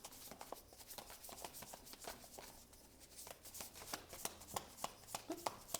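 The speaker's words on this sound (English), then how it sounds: "We're going to take a moment to shuffle this deck" Tarot card deck being shuffled by hand, soft papery riffles and taps in an uneven, continuous patter, quiet and close with no talking.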